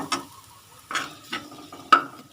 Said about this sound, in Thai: จะผัดให้หอมๆนะคะ